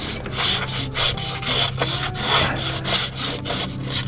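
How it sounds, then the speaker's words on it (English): 400 grit emery cloth rubbed around the crankshaft journals of a Jeep 4.0 engine, giving rapid rhythmic back-and-forth scratchy strokes, close and steady with no talk. "we're going to take some 400 grit emery cloth and just go around on these journals here"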